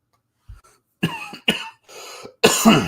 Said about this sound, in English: Sorry, I had the cough there.